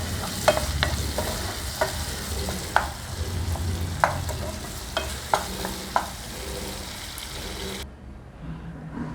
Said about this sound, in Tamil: இப்போ இதையும் நல்லா ஒரு வதக்கிடலாம்.